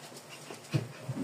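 A dog stirs awake at dawn with soft panting and a small whimpering yip, close and fairly quiet, with no talk.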